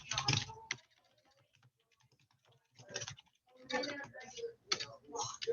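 Fingers tap on a computer keyboard in uneven bursts of crisp clicks, with a long quiet gap before faster runs of keystrokes, close and clear.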